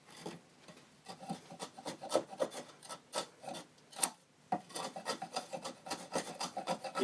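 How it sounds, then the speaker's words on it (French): Wood chisel scraping the bottom of a half-lap timber joint in carpentry, making a series of short, close rasping strokes in an uneven rhythm with no voices. "on va arranger les petits défauts maintenant avec un ciseau à bois"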